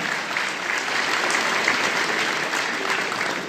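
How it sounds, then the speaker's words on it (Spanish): Audience applause at a council meeting in Teopisca, Chiapas, Mexico: steady, dense clapping from a crowd that holds evenly for the whole stretch without pause. "para quien pido un fuerte aplauso"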